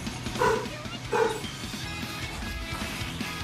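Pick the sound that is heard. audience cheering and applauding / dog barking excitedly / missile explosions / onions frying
dog barking excitedly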